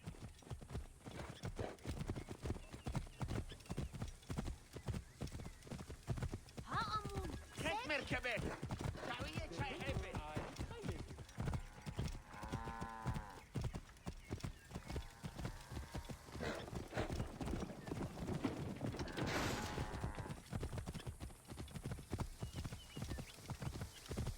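Racehorses gallop in a chariot-style race in Assassin's Creed Origins, dense rapid hoofbeats drumming continuously throughout with occasional neighs, while voices speak and shout over the pounding.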